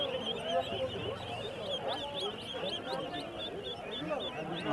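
Runner ducklings and other young ducks chirp and quack in a busy cluster at a rural livestock market, many high peeping calls overlapping against crowd murmur and talk.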